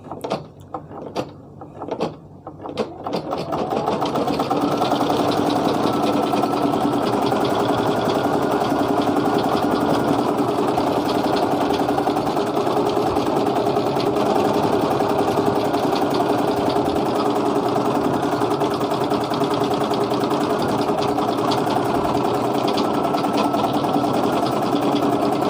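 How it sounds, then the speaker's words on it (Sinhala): A Brother embroidery machine stitches a key tag in white thread, starting with a few clunks and then settling into a steady, loud, fast mechanical whirring and tapping that runs on without voices. "දැන් මම මැෂින් එකේ ඩිසයින් එක තියෙන නිසා මම ඒක ඔන් කරගන්න යන්නේ."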